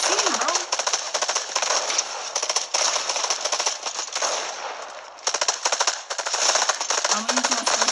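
Rapid automatic gunfire in the video game Fortnite, dense bursts of loud shots running nearly the whole time with a short lull in the middle, while voices talk over it.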